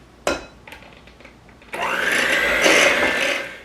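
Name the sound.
electric mixer beating Jell-O banana pudding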